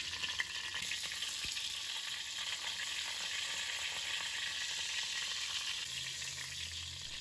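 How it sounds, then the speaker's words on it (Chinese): Soy-coated duck meat pan-fries in oil on its second side, a continuous close sizzle with light crackle and the odd soft knock of a utensil, no voices. "就翻另外一面煎。"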